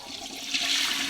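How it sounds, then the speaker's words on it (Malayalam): A toilet flushes up close with a steady, rushing gush of water that swells slightly toward the end. "വീണ് ഫ്ലഷ് അടിക്കാം."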